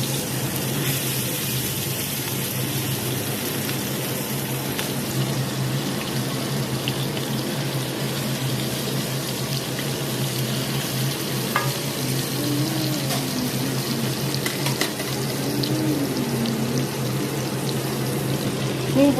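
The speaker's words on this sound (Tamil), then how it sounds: "இப்போ மீனை பொரிச்சு எடுத்துக்கிறோம்." Fish marinated in masala fries in hot oil with a steady, continuous sizzle and crackle that runs throughout, with faint voice and handling sounds underneath.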